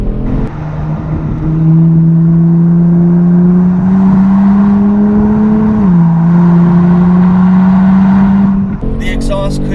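A Kia Stinger GTS exhaust revving up loud and close, a strong sustained engine drone climbing slowly in pitch, dipping once, then holding before cutting off into a short clatter at the end.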